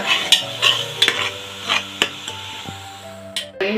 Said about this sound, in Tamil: நல்லா வதங்கணும் அந்த இஞ்சி பூண்டு பேஸ்ட்டு போகிற அளவுக்கு நல்லா வதக்கிக்கிங்க